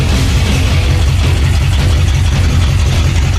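A 1968 Mustang Mach 1 rumbles while moving, its engine giving a loud, steady low-end throb with rhythmic exhaust pulsing that continues unbroken from start to finish, close and alone without talk.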